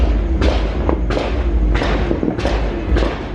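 Fireworks and firecrackers burst on New Year's Eve in the Philippines, five heavy booming thuds spaced roughly evenly over a few seconds, fairly close, with no talking.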